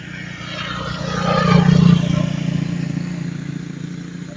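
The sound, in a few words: many motorcycles passing on the road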